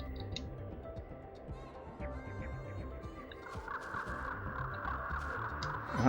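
Bird enemies in the video game Spyro calling with harsh cawing and gobbling cries over busy game music and effects, moderately loud and continuous.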